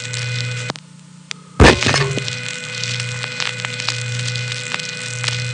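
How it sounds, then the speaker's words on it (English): At a #1 Crossbar central office, relays operate after the handset is hung up. A sharp mechanical clack stands out over a steady electrical hum, and scattered fainter clicks follow. "Love the relay sounds."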